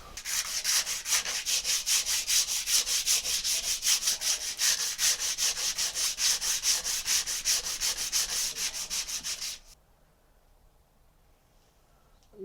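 A wooden club being sanded by hand with rapid, rhythmic back-and-forth scratchy strokes, loud and close for about nine seconds before stopping abruptly into quiet.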